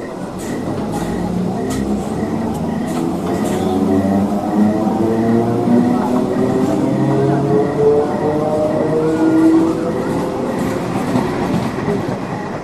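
A passenger train running through the night, heard from inside the carriage: a loud, continuous rumble with rhythmic clickety-clack of wheels over rail joints and a faint whine, steady throughout with no talk.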